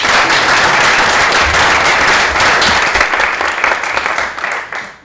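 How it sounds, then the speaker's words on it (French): A conference audience at a PHP developer talk in Lyon breaks into loud, dense applause that holds steady, then tapers slightly near the end. "normalement, c'est là où on a des applaudissements."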